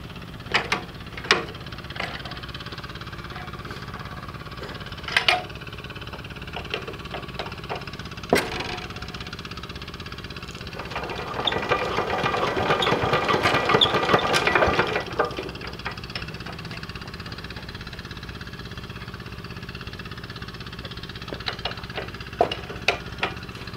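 Small Tobata tractor engine idling with a steady low chug, rising into a louder throttle rev midway through after a new hand throttle was fitted, then settling back, with occasional sharp knocks and clanks nearby.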